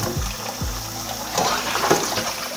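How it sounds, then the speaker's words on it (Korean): Blanched imported lemons rinsed under warm running tap water, a steady close splash and gurgle lasting the whole moment with a few low knocks early on and no talking. "한번 데친 레몬은 따뜻한 물로 가볍게 헹궈내주세요."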